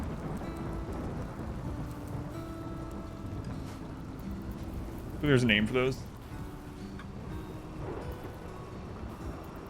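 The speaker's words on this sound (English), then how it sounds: "This map is always friggin' raining. Just rain, rain, rain." Rain hisses steadily throughout in the RimWorld game, a dense, even wash with low rumbling underneath, while someone speaks briefly in the middle over it.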